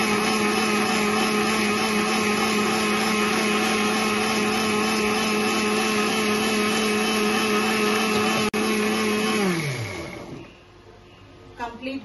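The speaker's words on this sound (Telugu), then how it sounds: "ఇప్పుడు దీనికి మిక్సీ చేసుకుందాం మనం." A kitchen mixer grinder whirs loudly and steadily at high speed, then is switched off and winds down to a stop, followed by a few light clicks.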